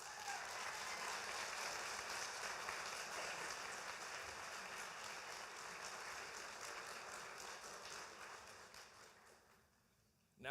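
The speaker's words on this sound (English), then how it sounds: "Give yourself a round of applause" Sustained applause from a large audience fills a nursing graduation ceremony for the class of 2025, steady and dense before tapering off near the end.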